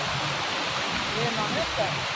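Palasdari waterfall near Karjat, taken from the top of the falls: a steady, dense rush of falling water fills the whole stretch at an even level, with a faint voice briefly rising over it near the middle.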